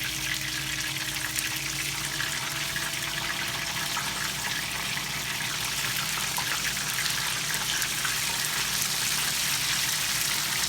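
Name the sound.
tempura-battered cod frying in oil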